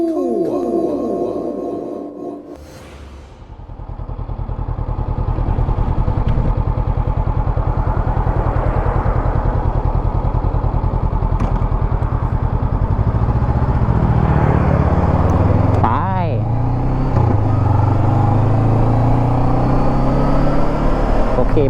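Honda CB500X ridden solo through Pattaya at night, the engine note dropping at first, then building into a loud, steady close drone with gear-change swells and passing traffic around it.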